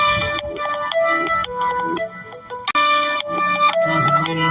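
A phone rings with a melodic, repeating electronic ringtone inside a car driving in a convoy, its tones steady and fairly close, with a brief break partway through.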